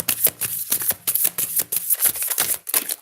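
A deck of tarot cards is shuffled up close in quick rhythmic riffles and crisp flicks, with short gaps between bursts as cards are drawn.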